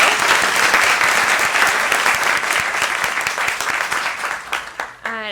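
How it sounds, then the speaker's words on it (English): A crowd at a volunteer awards event gives a round of applause for committee volunteers, dense and sustained clapping that thins out near the end as a voice begins speaking. "I want to start by giving a round of applause for those committee volunteers that run this program each year"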